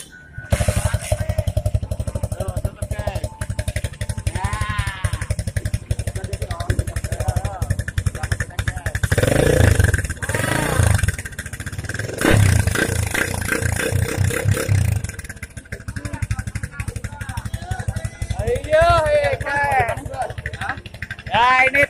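Motorcycle engine with a modified NTD kleper exhaust revs loudly and roughly for about twenty seconds, with repeated throttle blips and a steady rumbling idle underneath; people talk over it at times.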